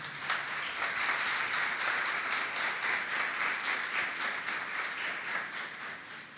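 A church congregation applauding in praise, a steady wash of many hands clapping that holds evenly throughout and eases off slightly at the end.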